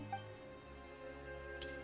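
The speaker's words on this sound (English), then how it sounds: "Why is it raining all of a sudden?" Light rain in Genshin Impact patters softly and evenly in the game world, a faint continuous wash under steady background music tones with no voices.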